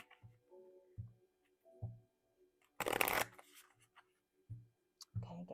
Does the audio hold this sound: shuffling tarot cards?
yes